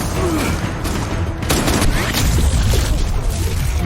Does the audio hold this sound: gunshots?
yes